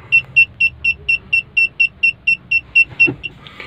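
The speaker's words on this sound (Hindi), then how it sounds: "देखिए साथ में सेंसर भी हैं जो बीप कर रहे हैं हमारे" Reverse parking sensors on a 2015 Swift Dzire beep in a fast, even series of about fourteen loud, sharp tones. A faint low rumble sits underneath.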